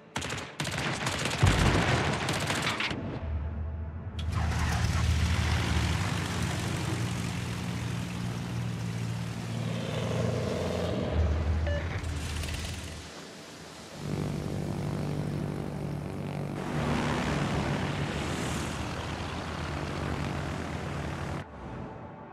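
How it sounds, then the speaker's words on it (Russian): Fighter aircraft take off from a Soviet Tier 8 carrier, the Chkalov, in the naval battle game World of Warships: sustained propeller engine drone mixed with rattling gunfire bursts and rumbling battle noise, loud and continuous, with no talk. "Истребитель взлет произвел."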